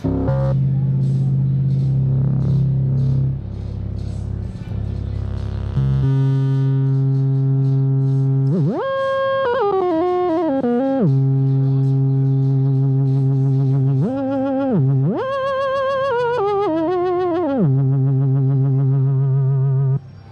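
Gritty, overdriven Moog Sub Phatty analog synthesizer tones hold sustained notes and glide up and down in pitch, buzzing with harmonics, loud and alone.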